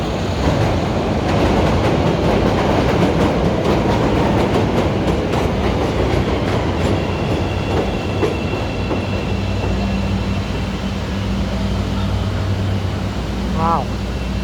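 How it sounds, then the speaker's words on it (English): A loud train rolls through downtown Chicago close by, its rumbling, clattering wheels building and then easing over several seconds, with a voice talking over part of the passage. "There's a train coming."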